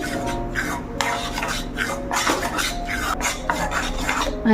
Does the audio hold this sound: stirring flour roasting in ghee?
yes